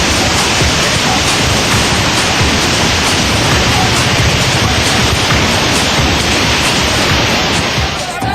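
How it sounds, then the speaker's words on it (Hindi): Fast floodwater on the Kalka–Shimla National Highway 5 near Solan roars in a loud, unbroken broadband rush as it swallows a car, steady throughout with no voices. "वहीं पानी के वेग में कार पूरी तरह से डूबती जा रही है"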